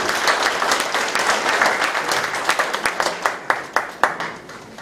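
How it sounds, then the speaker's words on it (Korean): Audience applause welcoming the city council chairman at a mayor's 100-day talk concert in Icheon, a full crowd clapping that thins toward the end into a few distinct, separate claps. "여러분 큰 박수로 환영해 주십시오"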